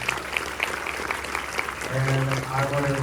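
Audience clapping at a film Q&A screening, a steady wash of applause from a crowd that swells louder toward the end, with a voice speaking over it near the finish.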